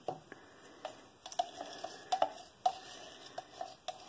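A utensil stirs acrylic pour paint in a cup, giving soft, faint, irregular taps and scrapes against the sides and bottom in a quiet room.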